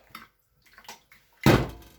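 Boiling water from a kettle splashes into dry ground egusi seeds in a short, close gush of about half a second, after a few soft handling sounds in a quiet kitchen.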